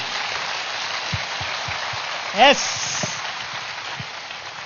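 An audience at a cultural event claps for the teams, a continuous patter of applause under a brief spoken word.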